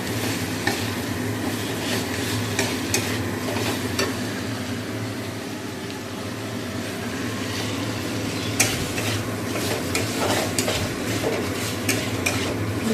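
Chicken curry masala sizzles steadily in a pan for nearly thirteen seconds, with repeated sharp scraping strokes from a stirring spoon breaking through the dense, close, continuous frying noise, and no voices.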